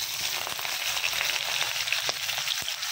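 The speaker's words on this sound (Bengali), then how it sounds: "তেলের মধ্যে এখন দিয়ে দিব পেঁয়াজ।" Onions frying in hot oil in a wok, a steady bright sizzle with crackling spits and a few soft knocks, close and continuous without talk.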